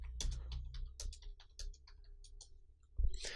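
Someone types on a computer keyboard in a quiet room, making a quick, uneven run of light clicking keystrokes that ends in a slightly heavier tap.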